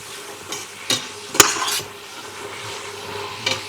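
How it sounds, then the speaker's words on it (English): Red cabbage frying in a pot is stirred, giving a few scraping and knocking strokes over a low, steady sizzle. "We definitely need a good stir."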